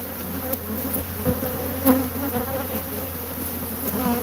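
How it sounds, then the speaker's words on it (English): Swarm of honey bees buzzing inside a washer and dryer, a dense continuous droning hum with individual bees flitting close by, loud and steady throughout. "Bees."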